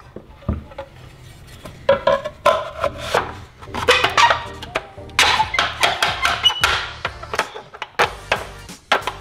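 A fiberglass rocket fin is forced into its slot with scraping, knocking and grinding contact noises in irregular close bursts that build in intensity, with no talk over them.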